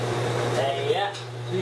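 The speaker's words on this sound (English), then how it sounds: "So you can actually watch clothes go round and round in that one. That's the dryer" A clothes dryer runs in a hotel's 24-hour laundry room at the Hampton Inn & Suites Dunwoody, Georgia, giving a steady low mechanical hum under a person talking.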